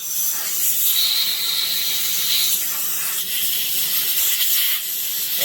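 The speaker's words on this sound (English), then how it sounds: "I just blow a little air in here." Steady breathy hiss of air blown through the fuel tank vent of a Stihl 026 chainsaw, close and continuous for several seconds with slight swells, no talking.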